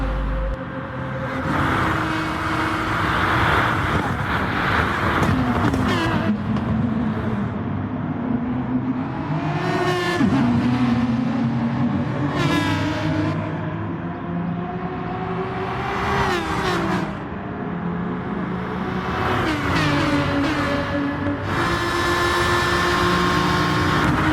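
Aston Martin GT3 race cars in Gran Turismo at Interlagos, Brazil, their engines droning and rising through the gears as they run up the main straight, with pitch sweeps from several cars over a continuous roar.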